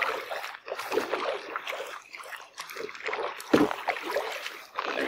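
A Pelican Pursuit 80X kayak being paddled on open water, with repeated soft splashes and dripping water from the paddle strokes, fairly close and continuous, with light wind noise.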